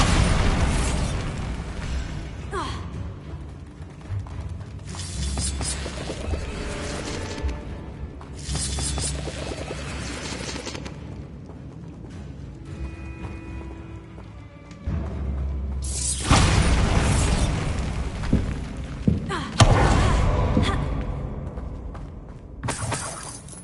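Bombarda blasting spells explode repeatedly in Hogwarts Legacy, loud crashing bursts with shattering debris over a busy game soundscape, swelling most strongly in the latter half.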